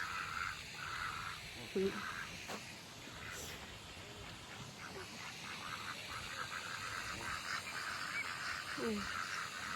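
Ducks honk and quack intermittently at a park, faint and somewhat distant over outdoor ambience, with scattered calls rather than a steady chorus.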